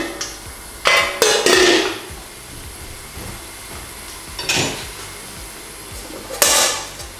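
An oversized lid clinks and rattles against a pot of water and zucchini heating toward a boil in a home kitchen, in short bright metallic bursts at the start, the middle and near the end, with quiet between.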